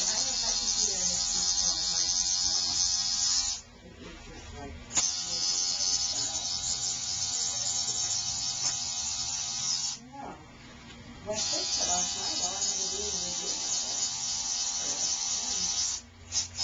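A tattoo machine buzzes steadily during tattooing, loud and close, in long runs broken by two brief pauses, with a voice talking over it.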